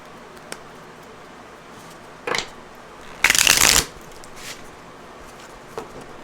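Tarot cards are shuffled in two riffling bursts, the second longer and louder, with a few soft taps and handling sounds around them in a quiet room.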